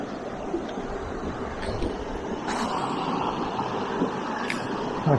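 A steady broadband rush of a small river and feeder stream flowing into a pool, with some gusts of wind buffeting the microphone.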